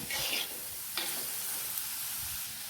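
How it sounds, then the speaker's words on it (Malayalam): Thinly sliced onions and curry leaves being sautéed in a little oil for a coconut-milk fish curry, a steady close sizzle with a couple of scraping stirs near the start and middle, no talking. "നമുക്കിത് നല്ലപോലെ ഒന്ന് വഴറ്റിയെടുക്കാം."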